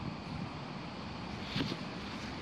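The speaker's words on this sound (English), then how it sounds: "Sorry about the wind, but it is brutally windy today" Wind buffets the microphone in a constant rough roar, with a brief louder gust near the end.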